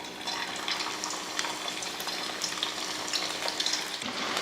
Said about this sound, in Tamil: இது போல் ஒவ்வொரு பீஸாக எடுத்து பொரிச்சு எடுத்துடலாம்.